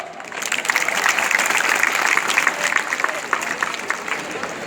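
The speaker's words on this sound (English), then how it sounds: "Please welcome him. A round of applause." An audience breaks into applause at a maths musical quiz event, with dense, steady clapping that swells quickly, holds strong for several seconds and thins slightly toward the end, with some crowd noise mixed in.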